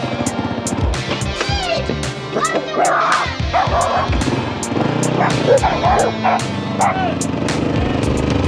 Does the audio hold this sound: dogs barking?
yes